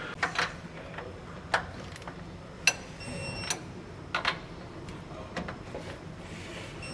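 Torque wrench tightening rear anti-sway bar bolts on a 2022 Tiffin Open Road Allegro motorhome, giving scattered sharp ticks and clicks spaced irregularly over a quiet background.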